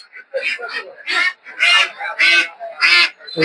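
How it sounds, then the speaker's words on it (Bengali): Several loud, raspy quacks from ducks, including Muscovy ducks, close by at a poultry market, coming in bursts one after another with brief gaps between them. "রাজা হাঁস"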